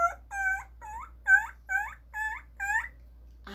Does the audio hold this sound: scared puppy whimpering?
yes